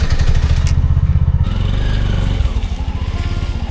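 A tuk tuk with a 200cc engine pulls away with a loud, close, rapid putter. The engine note shifts as it gets going, with no talking over it.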